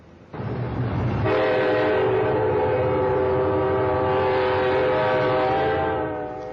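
An Amtrak passenger train rolls past through fog in Fresno, its loud sustained horn chord sounding steadily over the rumble of the cars for several seconds before easing slightly at the end.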